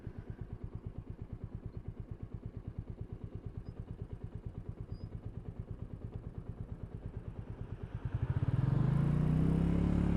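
A naked motorcycle picked up by a helmet camera gives off a steady, rhythmic pulsing of engine firing for about eight seconds, then surges into a loud rushing roar of wind and engine as it speeds up.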